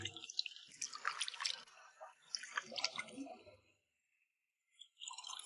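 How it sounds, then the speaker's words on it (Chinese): Shredded pork is rinsed by hand in a basin of clean water, with close wet squelching, sloshing and dripping in two bursts and a short quiet gap between them. "用清水稍微多清洗2遍，去除肉里边的血水和腥气味"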